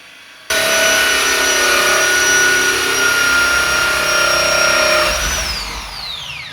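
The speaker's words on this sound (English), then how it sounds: "we finished the first step, which was putting the large hole in the door" A power drill bores a large hole through a wooden apartment door for a new lock, a loud steady whine running for about five seconds before spinning down as it punches through.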